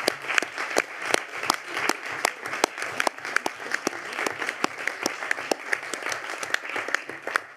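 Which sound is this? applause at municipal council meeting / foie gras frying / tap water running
applause at municipal council meeting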